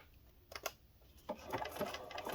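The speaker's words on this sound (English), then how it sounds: "I don't want to do a ton of back stitching right at the edge because too many holes in plastic will tear it." Sewing machine stitching through a plastic page protector near its edge, quiet mechanical bursts of rapid needle clatter, a short pair of runs then a longer stretch of stitching, close and faint.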